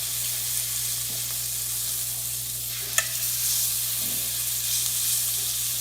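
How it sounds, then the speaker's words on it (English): Venison loin searing in a hot pan with olive oil, a steady close sizzle and fry hiss running throughout, with a faint clink near the middle and no talking. "I'm just kind of browning the outside a little bit, kind of searing it on the outside."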